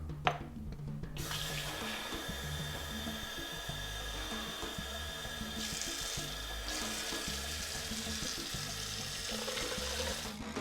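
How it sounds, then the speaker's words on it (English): Water runs steadily from a tap into a sink for about ten seconds, a constant close hiss and splash with no talking. "Now I'm going to add 4 cups of water."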